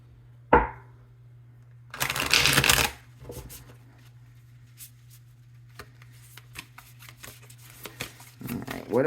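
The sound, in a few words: shuffling tarot cards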